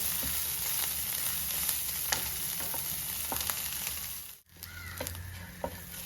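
Dry fish sizzling in hot oil for a Kerala-style chammanthi, a steady crackling fry with scattered scrapes and clinks as the pieces are turned, a short break midway.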